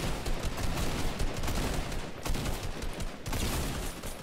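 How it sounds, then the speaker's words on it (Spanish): Video game gunfire: dense, continuous bursts of rapid shots and automatic fire, loud and steady throughout, with no speech over it. "Estoy tratando de dar todos los putos disparos que puedo."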